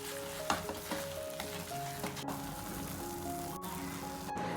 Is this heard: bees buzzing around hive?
no